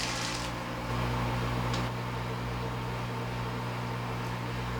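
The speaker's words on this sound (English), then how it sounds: "Our microwave is just about done." Microwave oven running in a home kitchen while cooking mac and cheese, giving a steady close hum and drone with faint broadband noise throughout, no voices.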